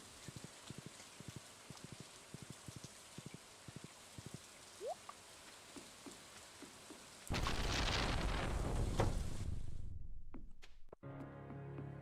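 Steady rain pours in the Stardew Valley Expanded video game, a loud wash of patter that comes in partway through after a stretch of quiet rhythmic tapping and clopping steps.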